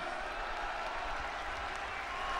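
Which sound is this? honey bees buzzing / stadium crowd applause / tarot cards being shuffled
stadium crowd applause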